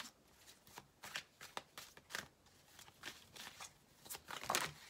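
Tarot cards being shuffled by hand for an extra draw, a run of quick papery riffles and flicks repeating in bursts at close range, alone with no talk.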